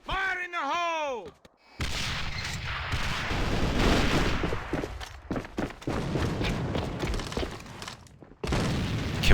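Round of AVA competitive play with a grenade blast and dense gunfire: a short sweep opens, then sustained loud bursts of shots and booms run throughout with brief gaps, under caster talk.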